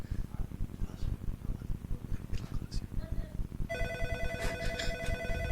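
A telephone rings with a bright electronic warble that cuts in partway through, heard under ongoing studio talk on a radio show.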